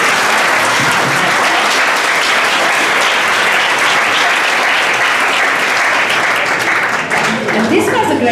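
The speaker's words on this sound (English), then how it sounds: "a big round of applause to everyone" Sustained, loud applause from a conference audience, a dense continuous wash of many hands clapping for over eight seconds without a break.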